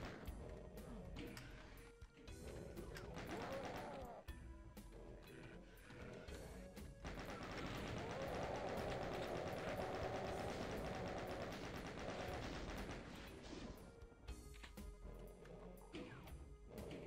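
Doom II chaingunner enemies in the Abandoned Mines level blast their chainguns in dense, rapid bursts of loud crackling shots that run almost without pause, with game impacts mixed in and no talking.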